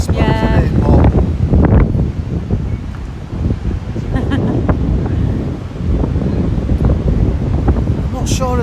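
Strong wind buffets the microphone on a blustery seaside walk around Newquay, with dense low rumble running throughout and voices talking over it.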